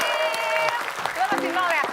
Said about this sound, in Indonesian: Tepuk tangan untuk kedua tim.